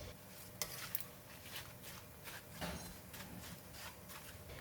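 Anchovies frying in hot oil give a steady, soft sizzle and crackle with occasional light pops and stirring clinks, close and quiet, with no talk.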